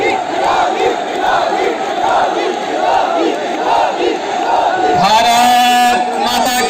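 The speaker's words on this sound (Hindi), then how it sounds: "भीड़ ने योगी योगी के नारे लगाने शुरू कर दिए।" At an election rally, a large crowd chants a two-beat slogan over and over in a loud, rhythmic roar, then a single amplified voice rises over the crowd near the end.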